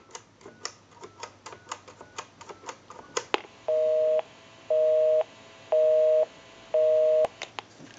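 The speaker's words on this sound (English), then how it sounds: "We'll call my number and it'll be busy." A repaired Snoopy and Woodstock novelty telephone clicks through a rapid run of dialing ticks, then gives four steady, evenly spaced busy-signal beeps before a last few clicks.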